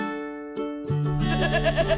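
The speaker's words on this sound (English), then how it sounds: "Boer nanny goat and kid." A Boer nanny goat and her kid bleat in a few wavering, harmonic-rich calls, one bleat starting alone and another joining, close and clear with no talk.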